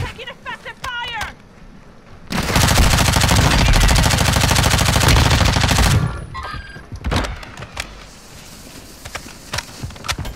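Sustained automatic gunfire in a video game firefight rattles loud and close for about four seconds, framed by scattered shorter shots and movement noise, with brief voices before and after.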